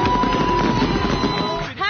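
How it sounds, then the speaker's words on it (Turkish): New Year fireworks burst over St. Martin, a continuous loud rumble of crackling explosions and pops, with a voice speaking over them. "Havai fişekler patlıyor."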